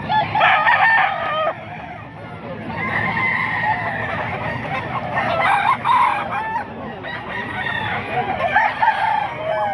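Roosters crow at a market stall, several loud, drawn-out calls in turn, with clucking and background chatter underneath.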